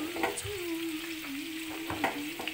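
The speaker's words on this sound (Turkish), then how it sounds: "Yağ koyduk, sucukları kızarttık." Turkish sucuk sausages sizzle and crackle in hot oil, a steady frying hiss with occasional stirring scrapes and a thin whistling tone beneath.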